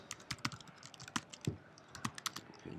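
Keys clatter on a computer keyboard as a short discussion title is typed, a quick close run of crisp clicks with brief pauses.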